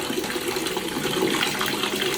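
Water runs steadily into a container being filled for cleaning a room, a close, continuous gushing splash that stays even and fairly loud.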